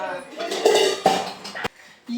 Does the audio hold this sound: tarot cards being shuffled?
no